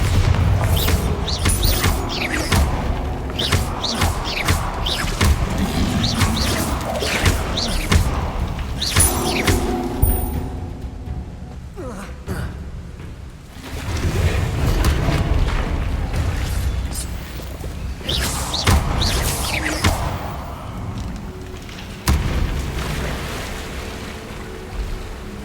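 Booming blasts from the Bombarda explosion spell in Hogwarts Legacy, several heavy detonations with rumbling debris and clatter running through a dense, loud game soundscape.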